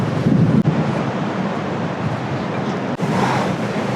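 Wind gusts buffet the microphone on the San Francisco coast, a loud steady roar with surf-like rumble and brief dropouts.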